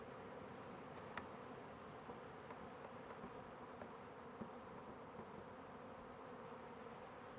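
A dense, steady hum of many honey bees buzzing together inside an APIMAYE 7-frame nuc hive, faint and continuous, with occasional soft clicks.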